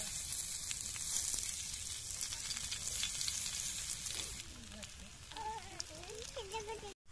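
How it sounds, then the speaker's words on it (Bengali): Paneer tikka frying gently on low heat in a pan, a soft continuous sizzle that thins out toward the end, with a voice talking over the latter part. "এই যে হালকা জালে চারিপাশ আস্তে আস্তে ভেজে নিচ্ছি ঘুরিয়ে ঘুরিয়ে।"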